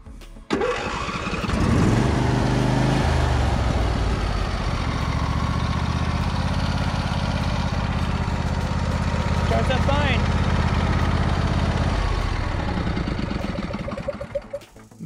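Husqvarna riding lawn mower with 234 hours on it cranks briefly, then fires up and settles into a loud, steady idle that runs close by before tapering near the end.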